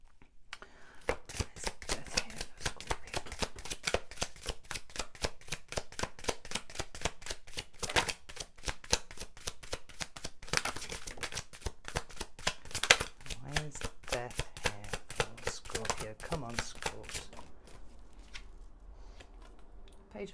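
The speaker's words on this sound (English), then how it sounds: "An awful lot of cards are flipping here." Tarot cards shuffled and flipped in a rapid, steady stream of crisp riffling snaps, close and fairly loud, continuing for about twenty seconds with a short louder burst midway.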